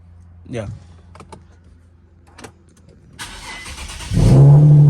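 A few clicks and a short voice, then a turbocharged Infiniti G37's engine cranks and catches on a warm start, settling into a loud, steady idle rumble close by.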